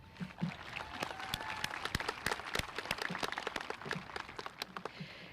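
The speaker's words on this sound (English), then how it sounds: "can I get one more round of applause?" A graduation ceremony audience gives a round of applause, a thinner, spread-out clatter of individual claps heard from a distance, fairly quiet and uneven.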